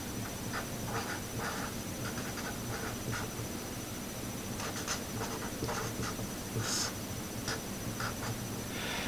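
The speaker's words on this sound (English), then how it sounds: "write it like this." Pen scratching across paper while writing by hand, a steady stream of soft strokes and taps over a constant background hiss, close and fairly quiet.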